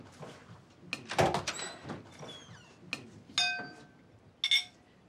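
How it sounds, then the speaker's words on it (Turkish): A door opens in a home setting, with several sharp clicks, knocks and a brief creak-like rattle spread over a few seconds, fairly quiet and close, with no talking. "Hadi bak aç kapıyı."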